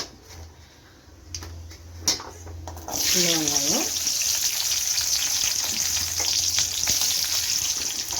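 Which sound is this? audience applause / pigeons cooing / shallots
shallots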